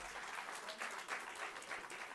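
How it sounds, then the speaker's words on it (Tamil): Audience applause at a Singapore Thirumurai conference, a steady crowd of many hands clapping throughout at moderate volume with no talk over it. "இதுக்கு நல்லா கைத்தட்டலாங்க."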